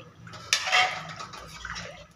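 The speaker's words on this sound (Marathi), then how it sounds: "पाणी ॲड करायचं थोडं थोडं." Hot water poured a little at a time into a simmering patwadi rassa curry, a brief close splash and gurgle of liquid followed by quieter bubbling, with no voices.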